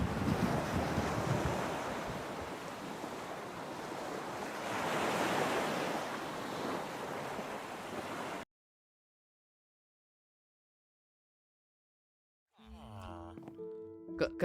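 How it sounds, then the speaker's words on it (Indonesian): Big ocean waves surge and roar in a steady wash of surf for about eight seconds, with heavy wind buffeting the microphone. A long silence follows, then a short stretch of other sound. "Aduh, ombaknya besar banget."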